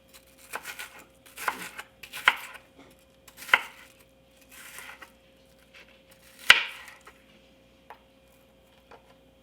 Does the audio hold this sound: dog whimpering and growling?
no